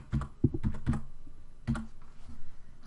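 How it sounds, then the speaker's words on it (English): Keys clack on a computer keyboard in a short burst of quick taps, followed after a pause by a few more scattered, fairly quiet keystrokes. "So here we're going to type in Kirby"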